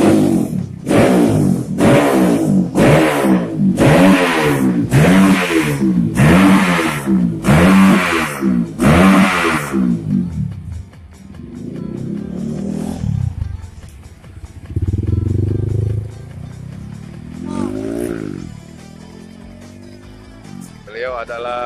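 A Honda CRF 150 trail motorcycle engine with an RS Motor exhaust and racing ECU revs hard in a series of loud rhythmic bursts, then idles and revs more irregularly, with someone talking nearby.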